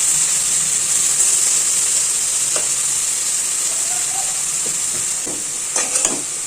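Chopped ridge gourd sautéing in a pan for a fried kuzhambu, with a steady bright sizzle of frying throughout and a few soft stirring clinks and scrapes near the end.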